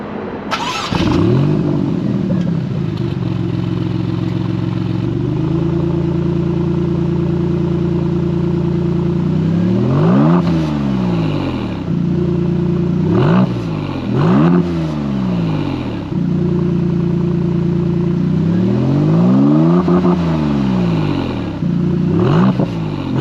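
A 2023 Maserati MC20 Cielo V6 engine revs hard several times, rising and falling in pitch with a loud, throaty exhaust note over a steady idle.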